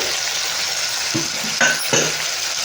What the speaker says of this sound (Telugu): 1 నిమిషం వరకు ఈ చికెన్ని బాగా వేయించుకోవాలి